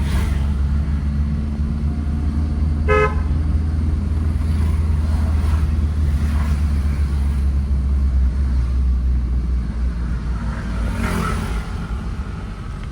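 A car accelerating on a road during a driving lesson, with a steady engine drone and low rumble from inside the cabin throughout and no voices.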